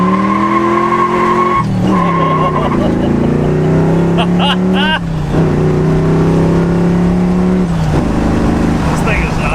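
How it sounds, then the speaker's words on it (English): A revived $2500 sleeper station wagon accelerating hard, its engine revving up through rising pitch sweeps and shifting between gears, loud and close, with people talking over it. "This thing is not a slow car."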